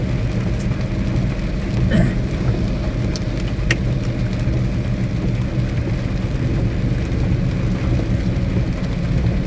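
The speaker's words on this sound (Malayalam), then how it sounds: "മഴയാണ്" Steady rain heard from a moving vehicle, a continuous dense hiss over a low engine rumble, with a few brief knocks and no clear voices.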